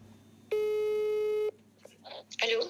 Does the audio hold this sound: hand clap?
no